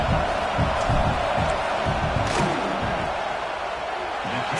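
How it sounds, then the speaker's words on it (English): A football stadium crowd roars during a field goal attempt, a dense, steady wall of noise from thousands of fans with low rumbling chants underneath, loud and unbroken throughout. "This crowd trying to do its part to get inside the kicker's head."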